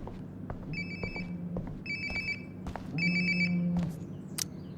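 A phone rings in the video game Before the Storm with a repeated electronic ringtone, three short bursts of tone with gaps between, close and clear, with little else around it.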